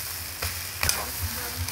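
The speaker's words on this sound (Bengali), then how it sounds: "একটু খুন্তি দিয়ে ঠেকিয়ে দেবো এইভাবে" Chopped banana flower frying in a pan, pressed and stirred with a metal spatula: a continuous close sizzle with a few soft scrapes and taps.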